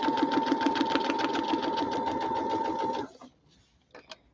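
A sewing machine stitches a strawberry foundation-paper-pieced quilt in a rapid, even mechanical chatter for about three seconds, then stops, followed by a couple of soft clicks and handling noises.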